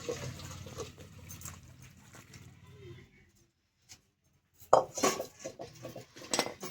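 A pot of silver carp curry is lifted off a kitchen stove with metallic clanks and scraping of cookware. A soft bubbling comes first, then a brief quiet, then sharp, close clattering bursts near the end.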